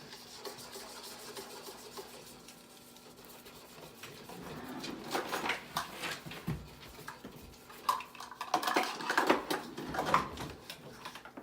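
Whisk beating flour into a vegan dough mixture in a bowl, a faint raspy rubbing and scraping that grows into quicker, louder bursts of stirring strokes near the end, with no talk.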